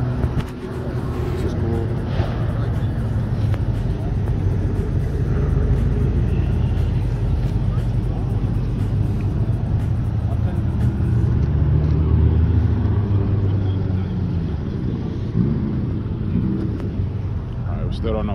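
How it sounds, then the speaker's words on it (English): Several cars rolling down a hill at a car meet, a steady loud engine and road rumble running throughout, with occasional revs and chatter from people nearby. "And we got cars coming down the hill."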